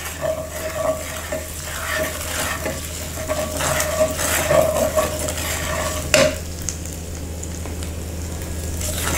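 A cooking mixture for a keto goru chikkudu (cluster bean) fry is stirred with chilli powder and salt in a pan, soft scraping strokes over a faint sizzle, close and fairly quiet, with a clink near the end.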